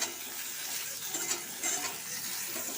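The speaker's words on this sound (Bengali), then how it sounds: "এবার আলুগুলো একটু ভালো করে নেড়ে চেড়ে ভালো করে ভেজে নেব।" Potatoes stirred and fried in a pan for an egg and pointed gourd curry, a steady soft sizzle with faint scraping of the stirring spoon, close and continuous with no voices.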